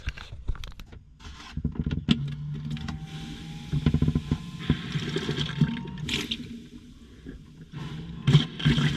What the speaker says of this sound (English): So we'll pump tap, see if it leaks.